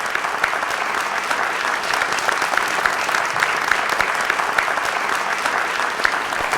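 A studio audience claps steadily and loudly for a television special, the applause forming a thick, unbroken roar that holds its level from start to finish.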